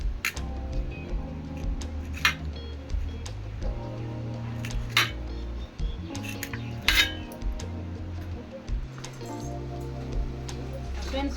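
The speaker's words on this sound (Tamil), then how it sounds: "ஓரத்தெல்லாம் கட் பண்ணிடலாம்." A knife trims the crusts off bread slices, producing repeated soft scrapes and light knocks against a hard surface. Faint background sound runs underneath.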